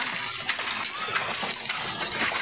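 Heavy rain mixed with hail pours down in a dense, steady roar with scattered sharper hits, close and loud throughout.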